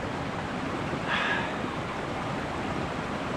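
A brook runs beside a wilderness trail, its water rushing in a steady, close, unbroken wash with no voices.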